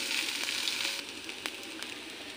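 Chira pulao of flattened rice with salt, being stirred and mixed in a hot pan, giving a steady, close, loud sizzle with occasional scraping clicks as the spoon moves through it.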